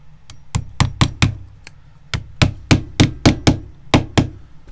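Hammer driving nails into a Florsheim shoe during restoration, a close series of sharp knocks in two bursts of rapid blows with a short pause between, alone with no talk.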